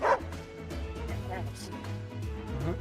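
Dogs in the strategy video game Wargroove bark, yip and whimper in quick, repeated bursts at moderate volume, mixed with game music and heard under people talking.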